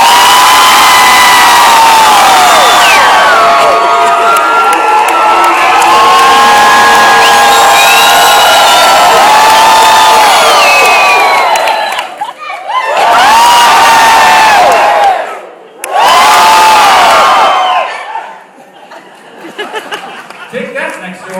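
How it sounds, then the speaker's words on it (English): A large crowd at a fitness coach summit screams and cheers loudly, a dense sustained roar that dips twice before trailing off into scattered shouts and voices. "Let's just scream for fun. Scream on."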